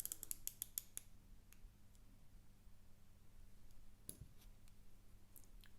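Ceramic bezel of an Omega Planet Ocean Master Chronometer watch turned by hand, giving a quick run of crisp, close clicks at the start, then a lone click later against quiet background hiss.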